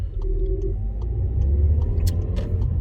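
A car idling and rolling slowly as it pulls in to park, a low steady engine rumble with faint clicks and light knocks, close with no talk.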